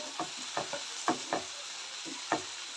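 Tomatoes frying in a pan for a village-style chicken curry, a soft sizzle under a handful of light spatula strokes, close but fairly quiet.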